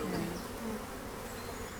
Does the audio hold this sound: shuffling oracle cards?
no